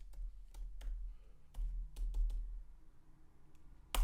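Someone types into a spreadsheet on a computer keyboard, giving a handful of sparse, close key clicks with pauses between them over a low background hum.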